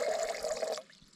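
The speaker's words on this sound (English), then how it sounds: "Got running water out here in the wilderness." Water running and trickling outdoors at a backcountry lake campsite in the Pecos Wilderness, a steady close splashing flow for most of the moment before it drops away to a faint wash.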